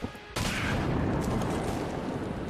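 Gunfire in Enter the Gungeon bursts in abruptly after a brief lull, then a dense, loud barrage of rapid shots and impacts runs without pause to the end.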